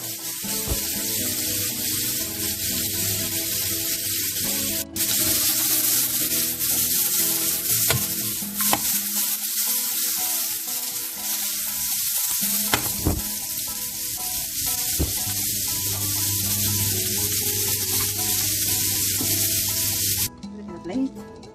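Food cooking in a pan until it turns red, giving a loud, continuous sizzle and spitting hiss close by, with occasional stirring knocks.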